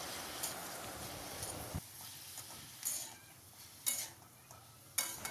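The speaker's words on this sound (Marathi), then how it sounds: "आता यामध्ये चिरलेली कारली आपल्याला टाकायची आहे व चांगले परतून घ्यायचे आहे" Chopped bitter gourd sautéed with onion in a pan, with a soft sizzle under intermittent scraping stirs and a few sharper clinks of a spoon against the pan, close and quiet, and no talking.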